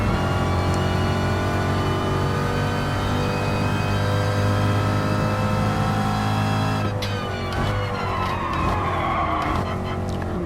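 A 1963 Corvette's engine drones steadily in Gran Turismo Sport racing at Autopolis, held at a constant loud pitch while slipstreaming, then shifting and changing tone near the end with a brief squeal of tires.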